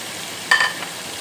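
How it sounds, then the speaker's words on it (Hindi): Half a kilo of chicken dropped into fried masala for a kadoo chicken dish, a brief sharp sizzle burst that fades quickly into a low background hiss. "मसाला भून चुका है, इसमें डालेंगे चिकन आधा किलो जो हमने लिया था।"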